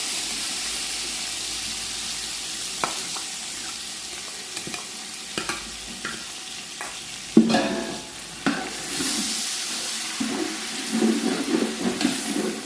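A spoon stirs yogurt into green chickpea pulao sizzling in a pot, with scraping and clacking strokes over a steady fry hiss, growing busier and louder toward the end.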